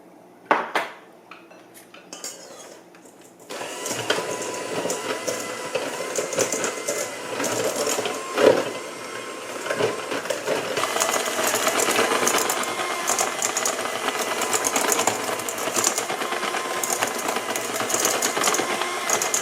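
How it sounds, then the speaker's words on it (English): Butter and sugar being mixed for snickerdoodle dough, a steady whirring and rattling of a mixer or utensil against a bowl that runs continuously after a few brief clinks, close and fairly loud, with no talking. "slowly adding in the sugar and mixing it so that it all comes together very well"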